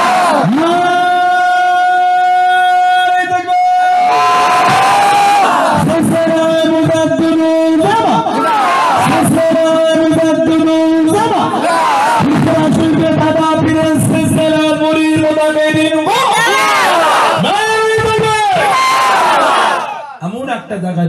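A large crowd at a religious waz gathering chants loudly in repeated sustained call-and-response shouts of Nara-e-Takbir, voices swelling together in long bursts separated by short pauses.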